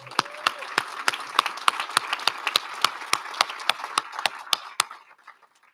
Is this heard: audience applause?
yes